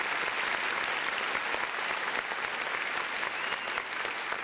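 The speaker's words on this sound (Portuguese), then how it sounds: "Aplauda ao Senhor então, meu irmão." Steady, dense applause fills a church congregation, continuous clapping from many people throughout with no voices rising above it.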